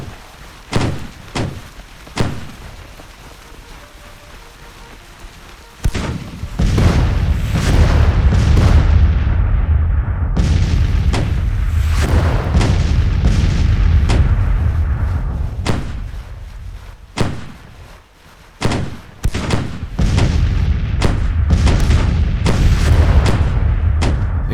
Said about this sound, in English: Let's start hitting that artillery.